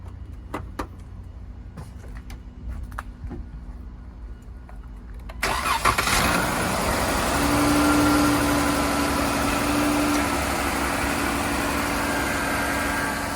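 A car's Pentastar engine with its cover removed, 190,000 miles, is heard as a few quiet clicks and then a sudden crank and catch, settling into a loud, steady idle that holds to the end.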